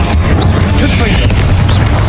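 Confringo blasting spells explode repeatedly in a Hogwarts Legacy duel, heavy booming bursts layered over dense rumbling combat noise with a voice calling out over it.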